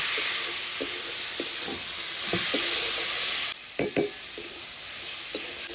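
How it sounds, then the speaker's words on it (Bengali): Steady loud sizzling of cabbage frying in a pan, with occasional scraping and stirring clatters of a spatula throughout. "এবার পাতাকপিটা একদম ভাজা ভাজা করে নেব।"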